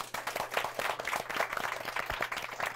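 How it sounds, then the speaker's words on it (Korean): A live audience applauds three MCs at the close of a CEO talk-show event, a dense, steady patter of many hands clapping together throughout at moderate loudness. "오늘 수고하신 세 분의 MC분들한테 박수 부탁드리겠습니다"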